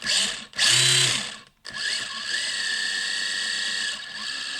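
The small electric motor of a Traxxas 1920s sprint car RC model whines up and down in pitch, revving hard then settling into a steady high buzz nearby.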